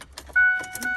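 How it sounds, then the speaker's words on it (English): A truck's engine turns on in a brief, close burst: a sharp cranking surge with a steady whine that settles almost at once. "you turn on your car"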